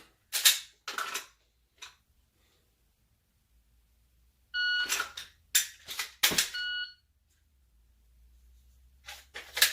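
Sharp clicks from a Glock 34 Gen 5 pistol being dry fired, with an ETS magazine fitted, arrive in short separate bursts with pauses between them, some louder and some softer, with no talking.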